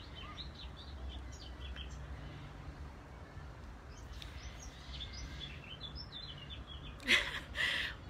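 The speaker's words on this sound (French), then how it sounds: "On dirait que les oiseaux aussi se sont mis à me souhaiter." Small birds chirp and tweet outdoors at a moderate distance over a steady low background hum, with a couple of louder, sharper calls near the end.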